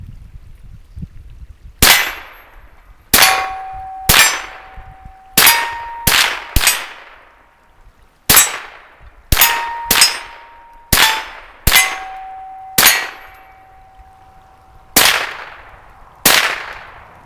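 Marlin Model 60 .22 rifle rounds striking scrap steel targets give about fourteen sharp metallic clangs at irregular intervals, each ringing out with a clear tonal decay before the next hit.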